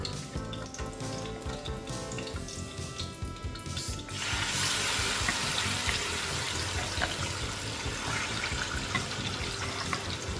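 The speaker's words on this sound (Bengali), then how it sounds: "সয়াবিন তেলে এটা রান্না করবো তেল এখন আমি এই ম্যারিনেট করা মাংসটা মধ্যে দিয়ে দিব" Marinated beef dropped into hot soybean oil for a Bangladeshi beef curry with jackfruit seeds, a steady loud sizzle that swells after a few seconds and continues without speech.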